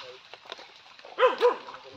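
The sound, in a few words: dog barking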